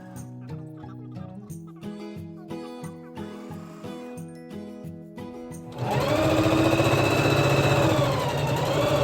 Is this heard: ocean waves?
no